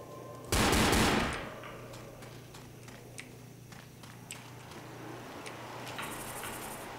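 Gunfire in the Left 4 Dead video game: a loud, close burst of rapid shots lasting about half a second, after which a quieter ambient bed with scattered faint ticks carries on. No one speaks.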